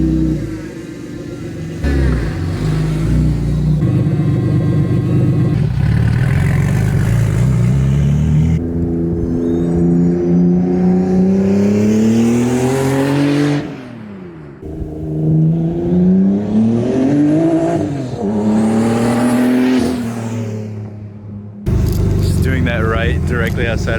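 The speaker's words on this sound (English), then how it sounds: "just to get a flyby clip with the downpipe off, because it probably sounds badass" A turbocharged BMW E36 with its downpipe removed drives past on an Arizona residential street, its loud, raspy engine revving hard, rising and falling in pitch through several gear pulls as it passes close.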